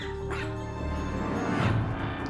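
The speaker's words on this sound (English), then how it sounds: "She's alarmed to find Mary's dogs in apparent distress." Several dogs whimpering and barking in distress inside a house, steady and fairly loud, with no voices over them.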